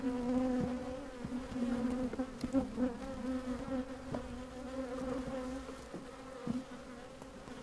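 Bees in a queenless hive box hum in a dense, steady drone close by, with small bumps and rustles breaking through the buzz.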